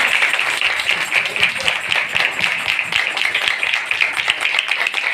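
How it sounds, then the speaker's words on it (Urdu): A Sunday church congregation of the Christian community in Islamabad claps loudly together, a dense, steady patter of many hands with rhythmic accents running for several seconds. "ہم اس کے لیے زوردار تالیاں بجائیں"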